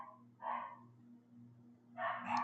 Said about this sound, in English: Gosh, that dog.